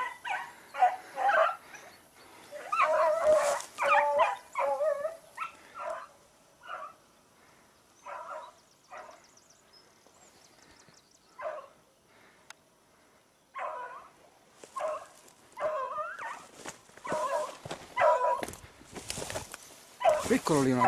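Beagle hounds bay and yelp in scattered bursts while chasing a rabbit outdoors, some cries closer and louder than others, with someone talking over much of it.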